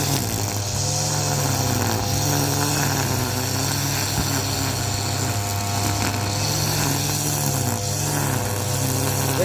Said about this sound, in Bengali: কিভাবে স্পিডে ঘাস কাটছে দেখো